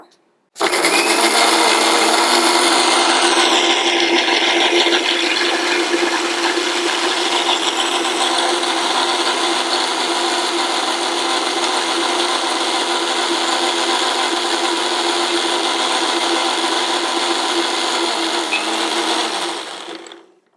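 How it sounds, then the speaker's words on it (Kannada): A mixer grinder blending a milkshake whirs loudly and continuously for about twenty seconds, starting abruptly and winding down at the end, with no voices. "ಈಗ ನಾವು ಮಿಕ್ಸಿ ಮಾಡ್ಕೊಳ್ಳೋಣ"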